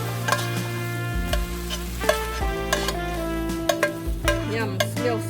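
Fried rice with shrimp and fish cake is stir-fried in a pan, with steady light sizzling under repeated clanks and scrapes of a utensil against the pan, alongside a low tonal hum and background music.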